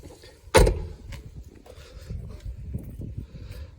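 Fuel filler door on a diesel camper van opened with a key: one sharp, close click or thump, followed by faint handling rustles and background noise.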